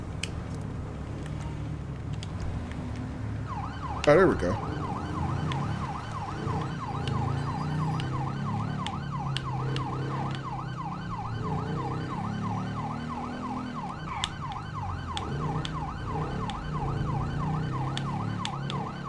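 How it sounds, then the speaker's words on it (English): A police motorcycle siren in GTA V with the LSPDFR mod wails in a fast, steady yelp cycle, switching on after a brief click and running continuously over a low engine rumble, with a short spoken remark. "I'm not used to riding police motorcycles. I don't know how to run the sirens."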